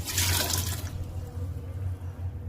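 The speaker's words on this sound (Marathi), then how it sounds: "आता हे छोले पाण्यासकट कुकरमध्ये घालणार आहोत" Soaked chickpeas and their soaking water are tipped into a pressure cooker in a kitchen, giving a brief loud splashing pour that fades after about a second into a quiet low trickle and hum, close by, with no talk.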